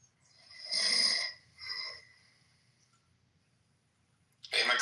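A person snores quietly nearby: one long rasping snore, a shorter second one after a brief pause, then silence before another snore begins at the end.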